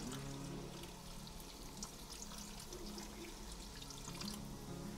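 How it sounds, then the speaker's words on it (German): Beef stock poured into a pan while making Swedish meatballs, a steady continuous liquid pour with a soft watery trickle running close and moderately loud throughout, no talking. "Gebe außerdem Rinderfond dazu."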